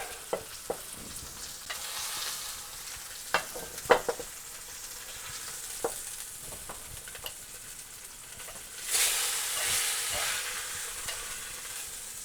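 Osso buco meat browns in hot oil in a Dutch oven, a steady sizzle punctuated by tongs clicking and turning the pieces, with a louder hissing surge near the end.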